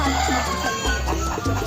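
Native chickens cluck in short bursts close by over a busy, noisy background at a campground birthday party, several birds calling in quick succession.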